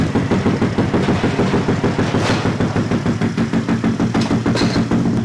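Honda Grom dirt bike engine running in a garage, a loud, close, steady throbbing drone that holds at a fairly even pitch for the whole stretch, with no one talking.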